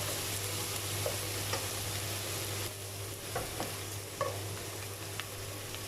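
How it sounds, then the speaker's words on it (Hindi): Onions sautéing gently in a pan for white qorma, a low steady sizzle with occasional faint stirring clicks, close but soft, easing slightly partway through. "इसके अंदर ब्राउन प्याज बिल्कुल नहीं अच्छी लगती, तो हम लोग थोड़ा सा इसको कर रहे हैं सौते"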